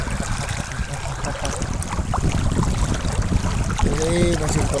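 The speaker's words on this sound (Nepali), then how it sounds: "धेरै नजिक खोला भेट्यो।" Close by, a flowing stream in Saudi Arabia gives off a steady rushing, gurgling wash, with a brief voice rising near the end.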